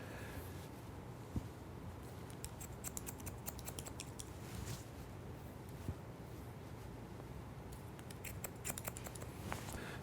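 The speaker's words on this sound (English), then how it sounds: "what I'm doing is I'm cutting a long fringe" Salon scissors cutting a long hair fringe, giving quiet repeated snipping clicks in irregular clusters over a low steady background hum, fairly close but faint, with no talking.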